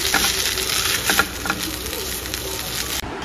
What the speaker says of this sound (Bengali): চাউমিনের মতো করে ডিম দিয়ে ভাজা ম্যাগি।